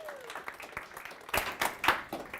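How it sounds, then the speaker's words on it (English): Audience clapping for a speaker at a developer meetup, a short, fairly quiet patter of hands that swells slightly toward the end. "Give a round of applause."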